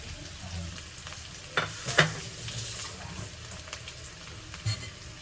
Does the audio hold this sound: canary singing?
no